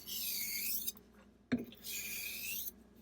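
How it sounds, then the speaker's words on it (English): A Yuri Kravchenko Artrazor straight razor has its bevel reset on a lower-grit sharpening stone: two long, faint rasping strokes separated by a sharp tap, alone in a quiet room. "the lower grit stone that I'm using here to reset the bevel"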